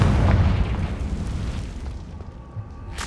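Confringo blasting spell going off in Hogwarts Legacy, a loud booming explosion with a rumbling low-end tail that fades over a few seconds, followed by a sharp smaller burst near the end.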